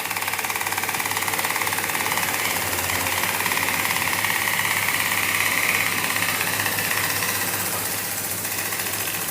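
A homemade single-stroke air engine runs steadily throughout, a fast, even mechanical chatter with a whirring, slightly hissing tone, loud and close with no talking.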